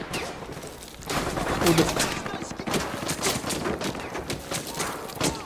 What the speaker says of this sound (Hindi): अरे यार कहां कहां से मार रहे हैं गोलियां ये